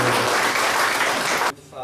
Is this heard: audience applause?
yes